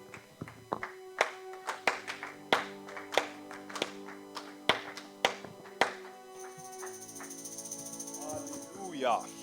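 Congregation at a church prayer service clapping in a steady rhythmic beat, a dozen or so sharp claps with sustained organ or keyboard chords beneath and voices singing or calling out, then the clapping gives way to music and voice.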